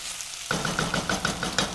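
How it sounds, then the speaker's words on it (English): Peppers for sambal kluwak fry in a hot pan with a steady close sizzle, joined by a rhythmic scraping and stirring that repeats about every sixth of a second. "As this is frying, do not breathe above the pan"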